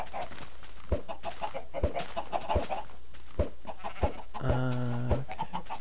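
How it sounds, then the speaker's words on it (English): Minecraft chickens clucking near a hen house, a series of short sharp clucks spaced about a second apart, then a longer drawn-out squawk toward the end, alone without talk. "Lots of chickens, lots of eggs."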